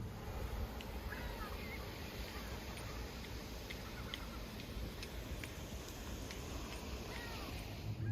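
Melting spring river water flows steadily outdoors, a broad, even rush with wind buffeting the microphone, and faint ticks scattered through it from start to finish.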